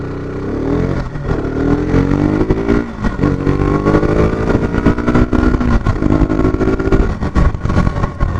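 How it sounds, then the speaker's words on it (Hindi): A 2021 KTM RC 200 BS6 motorcycle engine revs loudly and repeatedly, pitch climbing and dropping in several surges, close by with no talking. "gentlemen, let's start the engine."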